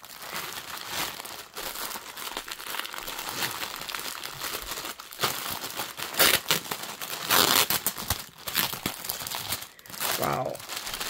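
A cross-stitch kit package is torn open and unwrapped close by, with sustained crinkling of plastic wrap and occasional sharper tearing, and a voice breaks in faintly near the end.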